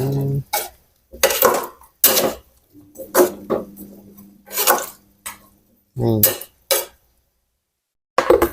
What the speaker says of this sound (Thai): เอาฟักลงไปเลย ปึ๊บปึ๊บปึ๊บปึ๊บ คนให้เข้ากัน